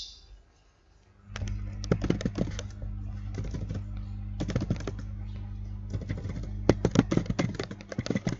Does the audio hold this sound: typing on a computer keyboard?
yes